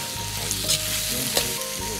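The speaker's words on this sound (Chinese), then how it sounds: "快速翻炒几下，翻炒均匀。" Wood ear mushrooms and eggs stir-fried in a hot wok, a loud steady sizzle and crackle with scraping stirs from a spatula.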